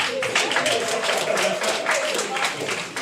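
Live audience applause in a room as guests arrive, steady clapping that stays at moderate loudness throughout with voices talking over it.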